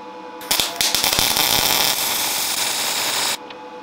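MIG-style welding using homemade vinegar and baking soda shielding gas, a loud steady crackling, sizzling arc with sharp pops at the start, running continuously for about three seconds before cutting off.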